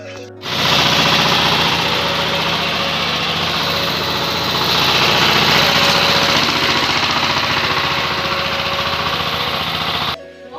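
A tractor engine starts and settles into a loud, steady idle that runs unbroken for about ten seconds before cutting off, with no voices.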